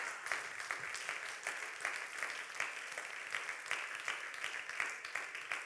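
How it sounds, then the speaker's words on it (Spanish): A church congregation gives strong, sustained applause for Jesus, many hands clapping steadily with slight rhythmic pulses, moderately distant in the room. "Denle un fuerte aplauso a Jesús."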